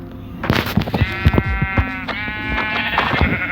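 Sheep bleat in the Minecraft Bedrock video game, several loud, close, wavering calls that overlap amid a few sharp game sound effects.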